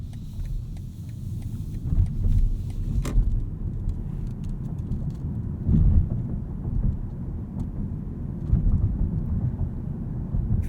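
A BMW i7 xDrive60 electric luxury sedan cruising around town, heard from inside as a steady low road rumble with soft swells of tyre and motor noise, no talking.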